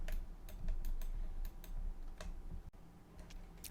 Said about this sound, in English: Just duplicate it by pressing Shift D on the keyboard.